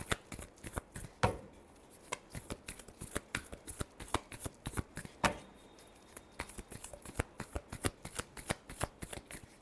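Tarot cards being shuffled by hand make rapid, close crisp riffling flicks and soft slaps in an uneven, continuous rhythm, fairly quiet, with no talking.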